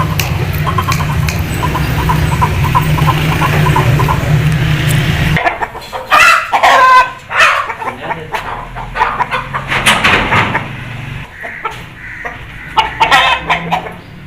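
A Cheena Aseel rooster clucks in short, uneven bursts close by, following several seconds of steady background noise.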